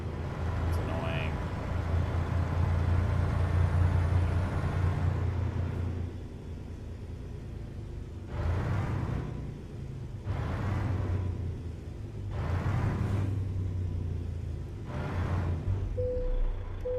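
Kenworth T680 with a Paccar M11 engine and TX18 transmission in a truck driving video game, its engine droning as a steady low rumble that swells and eases through the clip, with several short bursts of noise.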